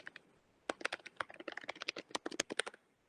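Rapid irregular keystrokes on a computer keyboard while entering text into a form field, close and crisp, with a short pause before a dense burst of clicks and no talking.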